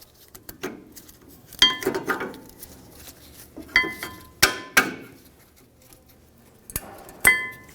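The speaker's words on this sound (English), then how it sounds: "Remove the brake pads." Rear brake pads being pried out of the caliper bracket on a 2015-2020 Ford F-150: scattered sharp metallic clinks and clanks, several loud knocks spread irregularly through a quiet workshop background.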